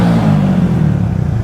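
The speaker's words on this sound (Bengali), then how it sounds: "একটু রেভ করতে" A motorcycle engine revs close by, a loud, steady, throaty rumble held for the whole moment with slight pulsing in its drone.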